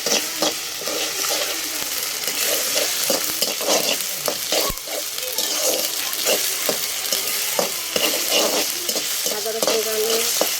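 Ginger garlic paste fries on a wood stove with a loud, continuous sizzle, broken by repeated scraping and clicking as the spoon stirs it.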